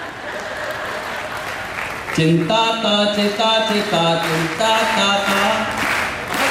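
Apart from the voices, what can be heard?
audience applauding at comedy poetry show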